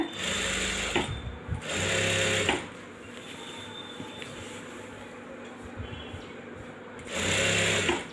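A sewing machine stitches a fall onto a saree in two loud, steady runs with a quieter pause between them, then a third run near the end.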